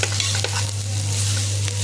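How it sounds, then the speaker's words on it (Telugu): Shredded cabbage frying in hot oil in a pan, a steady close sizzle with scraping stir strokes from a spoon throughout. "మంచిగా మొత్తం నూనెలో ఫ్రై అయ్యేదాకా కాపకోసారి కలుపుకుంటా మూత పెట్టుకుంటూ ఉండాలి."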